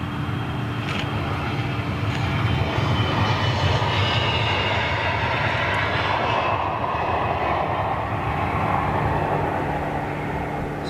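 Freighter aircraft at Amsterdam Schiphol airport, a continuous loud jet engine roar that holds steady throughout, heard from a distance with no talk.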